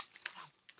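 Crunchy triple-layer cereal being chewed close to the mouth, a few crisp bites and crackles over under a second, fairly quiet, with no talking.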